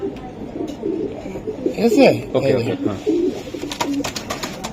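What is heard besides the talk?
racing pigeons cooing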